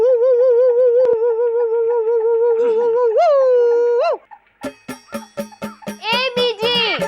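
A voice holds a wavering, whining tone, then breaks into a quick series of short barking yelps, imitating a dog.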